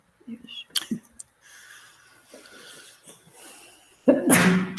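Quiet breathy murmurs and rustling, then one loud, sharp sneeze bursts out near the end.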